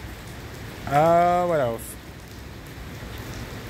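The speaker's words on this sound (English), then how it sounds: "it is pouring down raining" Heavy rain pouring down in Cincinnati, a steady broadband hiss that runs the whole time, with a brief spoken phrase rising over it partway through.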